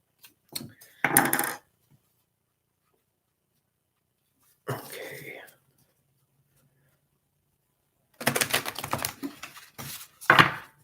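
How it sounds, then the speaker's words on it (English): Tarot cards being shuffled by hand in a quiet room, heard as short bursts of riffling and tapping, one near the start, one in the middle and a longer run at the end, with silence between. "Just shuffling my cards."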